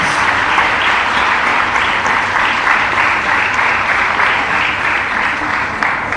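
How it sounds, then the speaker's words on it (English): A large audience at a women's college seminar claps loudly and steadily for several seconds, a dense, even wash of applause with no voices standing out. "Let us give Dr. Imbenzi George a well-deserved round of applause."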